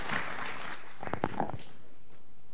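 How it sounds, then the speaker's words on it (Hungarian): A seated audience at an inspirational talk in Szekszárd, Hungary, claps briefly. The burst starts fairly close and full, then thins out within a second, and a voice speaks just after it. "Köszönöm a tapsot."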